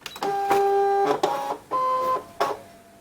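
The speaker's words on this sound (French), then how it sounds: "mettre votre feuille à l'intérieur de la machine" A Brother ScanNCut cutting machine pulls in a sheet with several short motorized whirring bursts, each a steady mechanical tone lasting about half a second, separated by brief clicks and gaps, loud and close.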